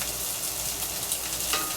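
Tofu, egg and mung bean fry in a cast iron pan with the heat off, giving a steady, close, even sizzle that holds without pause.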